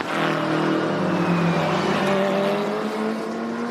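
Porsche GT race cars roar along a track during a GT championship race, a loud sustained engine whine with rising and falling tones as several cars pass.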